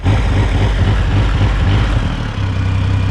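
A Triumph Rocket 3 Storm R motorcycle engine idles in neutral against its soft rev limiter with a steady low rumble and pulsing throb, briefly dipping before settling into an even drone.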